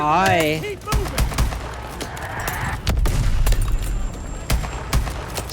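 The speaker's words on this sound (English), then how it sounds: "Pressure explosions! This place is going up!" Pressure explosions in a video game: a heavy barrage of booms and rapid gunfire-like cracks in quick irregular bursts over a constant roar, with game voices and other sounds mixed in.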